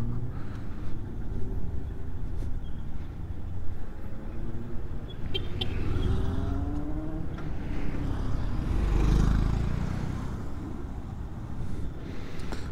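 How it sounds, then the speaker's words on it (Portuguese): Car driving through a curve on a road trip, its steady engine and road rumble carrying on continuously with some wind noise, swelling slightly near the end. "deixa eu fazer essa curva aqui pra vocês verem aqui, olha só"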